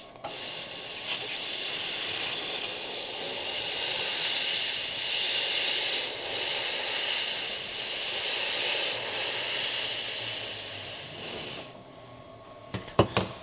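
An xTool laser cuts shapes from carbon steel with a loud, steady, breathy hiss that swells and fades slightly for about twelve seconds, then cuts off, leaving a quiet background and a few sharp clicks.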